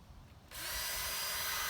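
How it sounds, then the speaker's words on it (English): A drill starts up and bores a small hole in a metal can for a hobo stove, a sudden steady high whine that follows a quiet moment and holds at even loudness, close and with no talk. "I'm just going to drill a small hole."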